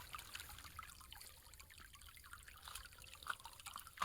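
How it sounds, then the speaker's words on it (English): Creek water trickles over shelf rock on a rural property, a faint, soft babbling with light drips and splashes, steady and close, with no voices. "Getting a little sound right there from the creek."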